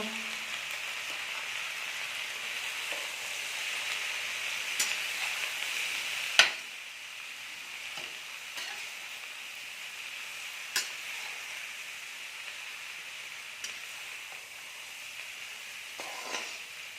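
Potatoes with salt, chilli and masala frying in a pan, a steady close hiss of sizzling oil broken by occasional sharp scrapes and taps of the stirring spoon.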